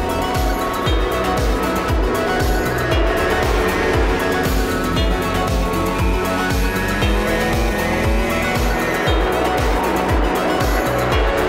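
MotoGP race start at the Assen TT: a loud, dense roar of racing motorcycle engines with rapid rhythmic pulsing, continuous and close, with a commentator talking over it.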